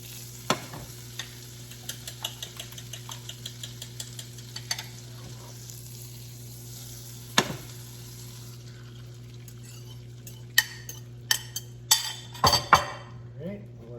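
Butter sizzles in a pan on an old electric stove set to about medium heat, a steady soft fry under scattered utensil clinks and taps, with a louder cluster of clatter near the end.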